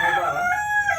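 Rooster crowing close by in a single strong, sustained call that fills the whole moment.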